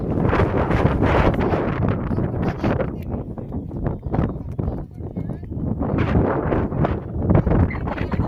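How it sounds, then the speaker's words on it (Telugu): Strong wind at a hilltop fort buffets the microphone in loud, gusty rumbling bursts that rise and fall throughout, with people's voices mixed in. "చూడండి ఎంత ఉందో గాలి."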